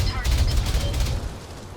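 Rapid burst of heavy weapon fire from a giant mech aimed at an enemy's head in the Battletech video game, a dense continuous fusillade with a voice talking over it.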